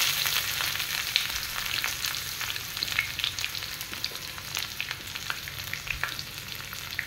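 Chopped onions fry in hot oil with whole garam masala, bay leaf, chilli and cumin, a steady, bright sizzle with dense crackling throughout and no voices.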